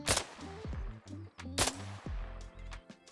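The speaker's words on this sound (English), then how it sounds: "The first gun we're going to talk about is the KAC KS1." A KAC KS1 rifle fires in Arma Reforger, two sharp separate shots each followed by mechanical clatter and a short ringing tail, fairly close.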